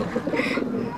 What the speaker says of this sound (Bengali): আমার কবুতর দুটো কত শুনুন